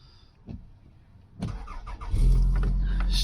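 A Toyota car engine cranks briefly after a few quiet clicks and bumps, then catches and settles into a steady, close idle.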